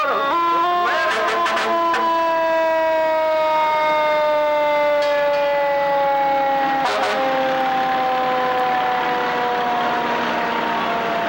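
A Streamwood Fire Department fire truck rolls through a summer celebration parade sounding a loud, steady wailing siren for over ten seconds, with brief sharp horn-like blasts cutting in near the start and again midway.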